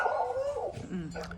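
A female dog lets out a short whine-like bark over a person talking in a quiet home, the canine sound partly overlapping the voice.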